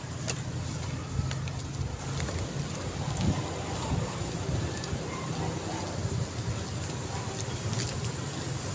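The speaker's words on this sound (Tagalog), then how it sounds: "Pahinga muna ako dito kay may ulan." Rain falls steadily outdoors, giving a constant broadband hiss with low rumble that never lets up, loud and close, with no clear speech over it.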